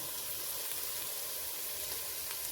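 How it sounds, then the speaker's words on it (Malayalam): Onions sautéing in coconut oil for egg fried rice, a steady soft sizzle with even crackle throughout, fairly faint and with no talk over it. "വെളിച്ചെണ്ണ ഒഴിച്ച് ഉള്ളിയും അതൊക്കെ ഒന്ന് വഴറ്റിയെടുക്കാം."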